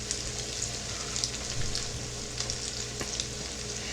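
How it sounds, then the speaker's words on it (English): Homemade fish cakes fry in a hot pan, a steady dense sizzle and crackle running throughout with small pops and a few brief stirring scrapes, close and fairly loud, no voices. "frying them to your desired crispness"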